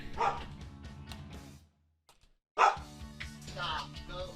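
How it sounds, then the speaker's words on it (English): A pet dog barks indoors in two loud bursts of rapid barks separated by a short silence, close to the microphone and alone without talk. "Sorry, my dog."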